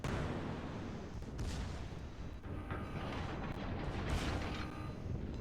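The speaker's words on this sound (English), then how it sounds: "Shots out again at the Daring," Naval guns fire in World of Warships, aimed at a Daring destroyer, as a string of deep booming salvos rolls over a constant rumbling background of battle noise, with no talking.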